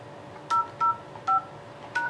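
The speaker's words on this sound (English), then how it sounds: "Please enter your password followed by the pound key." Four short, evenly spaced keypad tone beeps from an eSIP office phone as a voicemail password is typed in, clear and isolated over a faint background hum.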